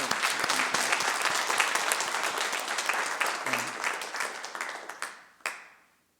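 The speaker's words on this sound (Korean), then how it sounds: "우리 모두 박수로 한번 그분들 축하드립니다." A church congregation bursts into sustained, dense applause that holds steady and then tapers off, with a final few scattered claps in a reverberant hall.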